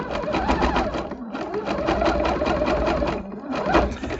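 A sewing machine stitching a quilt seam on half-square triangles, running steadily and close with a rapid even needle chatter, pausing briefly twice before continuing.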